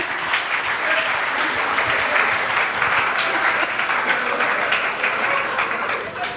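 Live audience in a hall breaking into sustained applause with some laughter after a comic anecdote, a dense steady roar of clapping that holds at an even level throughout.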